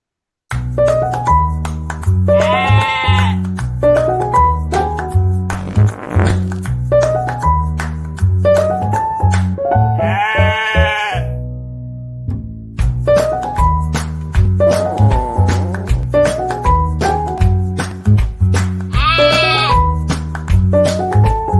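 Goats bleat repeatedly and loudly, with long wavering calls rising over a steady, rhythmic musical backing that runs throughout.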